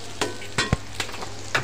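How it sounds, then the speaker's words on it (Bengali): Noodles with vegetables are stir-fried in a pan, with a soft continuous sizzle broken by several sharp scraping and clanking strokes of a spatula close by. "সবজি দিয়ে নুডলস রান্না হচ্ছে আজকে বিকালের নাস্তা"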